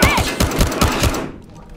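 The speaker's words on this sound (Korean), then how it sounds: "총 쏘는 건 거의 처음이네" Rapid gunfire in the PC game Battlefield Hardline: about six loud, punchy shots fired in quick, even succession, then cut off, leaving a short fading tail.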